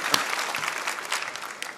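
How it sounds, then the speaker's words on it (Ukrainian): Studio audience at a televised singing contest final breaks into brief applause, a dense wash of clapping with one sharp, close clap near the start. "Юркеш, еще раз аплодисменты."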